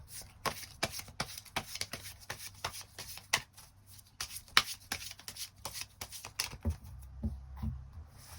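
Tarot cards being shuffled and drawn, with close, crisp papery riffles, slaps and flicks in irregular bursts, fairly quiet, with no talking.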